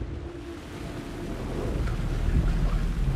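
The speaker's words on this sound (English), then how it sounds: "The rain never stopped falling." Rain falls in the Alan Wake 2 video game, a dense, continuous hiss under a low rumble of thunder that swells slightly toward the end, with no voices.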